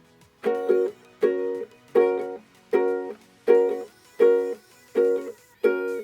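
Eight short strummed ukulele chords in a steady offbeat reggae rhythm, each a quick double chop followed by a brief gap, played up close with no talking.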